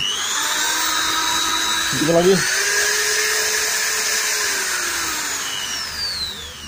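J-LD electric drill spinning at high speed, giving a loud, steady high-pitched whine that rises briefly, then carries on with slight pitch drift while a person talks over it.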